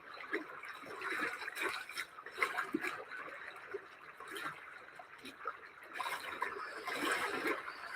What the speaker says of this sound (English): I'm just gonna put on some water sounds